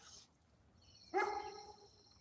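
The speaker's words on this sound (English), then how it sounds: "What are you barking at?" A dog barks once, fairly close, with a short burst and trailing yelp amid quiet background and a faint high bird-like tone.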